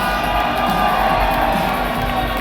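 A loud arena crowd at the HCS Kansas City Major Halo esports event cheers and whoops in a sustained roar, with voices shouting within the dense noise.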